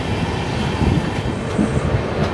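Sairang–Kolkata Express passenger train standing at a station platform, a steady low rumble with faint rattling and clatter of carriages, close and continuous with no talk.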